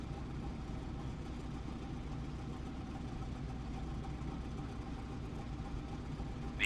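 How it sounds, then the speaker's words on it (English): Simulated F4U-1D Corsair piston engine running steadily after startup in the DCS flight game, a low even rumbling drone, fairly quiet and with no voices. "The engine is running."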